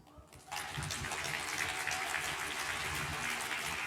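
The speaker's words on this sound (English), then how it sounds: "give like a huge, huge round of applause for our incredible tech crew" Keynote audience bursting into loud, sustained applause for the tech crew, a dense continuous roar of clapping that starts abruptly after a brief quiet moment and holds steady.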